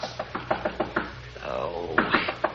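Knocking on a hotel room door comes as repeated sharp raps in uneven bursts, heard over a steady background murmur.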